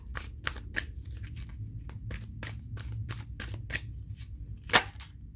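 Tarot cards being drawn from a deck, with a quick run of crisp flicks and snaps as cards are pulled and laid down, close and fairly faint, ending in one sharper slap.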